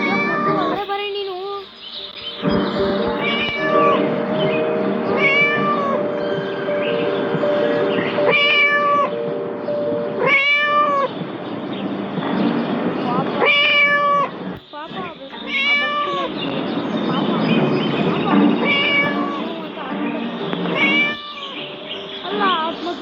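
Cartoon cats meow repeatedly in the video game Scary Teacher, loud meows recurring every few seconds over steady game music and sound effects, with a voice talking at times.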